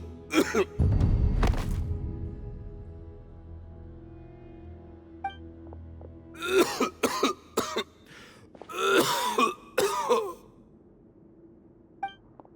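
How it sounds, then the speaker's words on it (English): A male character in the video game Genshin Impact coughs and sighs heavily, with several rough coughing fits and throat clearing broken up by pauses and a low rumbling thud. "Why is he coughing so much?"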